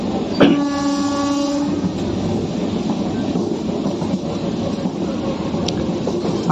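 A train horn blasts briefly near the start, then the steady rumble and rattle of an early-morning Kolkata-area train rolling along the rails continues.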